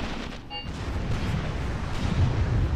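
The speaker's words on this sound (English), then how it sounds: "There we go. More artillery, please." Artillery fire in the WWII tactics game Graviteam Tactics: Mius-Front, a low rumbling barrage of distant booms rolling steadily throughout, with a brief higher tonal chirp early on.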